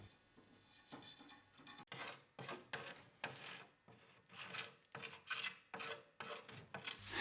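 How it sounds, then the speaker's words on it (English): A putty knife and scraper rasp loose paint off indoor wooden joinery in steady repeated strokes, roughly one every half second, close and dry, with no voices. "Remove all loose paint with a putty knife and scraper."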